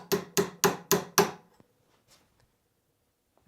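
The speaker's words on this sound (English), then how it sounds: "Then we're going to grab the ball peen hammer and get it started," A ball peen hammer taps a roll pin into place in five sharp, evenly spaced metallic strikes, close and loud, followed by near silence with a few faint clicks.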